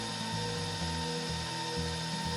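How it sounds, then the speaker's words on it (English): An electric mixer turns at slow speed while vegetable oil streams into pumpkin bread batter, giving a steady, continuous motor hum with a low rhythmic churning pulse that sounds close and even throughout. "With our mixer on a slow speed, we're going to stream in 1 cup of vegetable oil."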